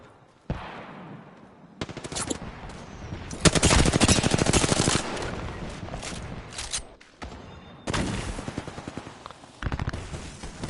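Automatic gunfire from the Apex Legends video game rattles in loud, close bursts, a long rapid volley in the middle and further bursts separated by short pauses.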